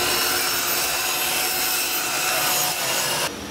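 Continuous rasping of a tool trimming the sides of a wooden sign, steady and fairly loud throughout, with an abrupt drop in level near the end.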